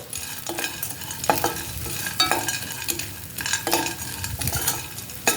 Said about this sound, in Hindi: और गौन को हम यहाँ पे तब तक फ्राई करेंगे जब तक ये पूरी तरह से फूल ना जाए